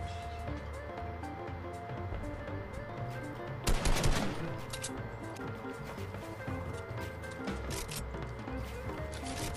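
Assault rifle fire in Fortnite, a loud burst of rapid shots in the middle over steady game ambience and faint scattered sounds.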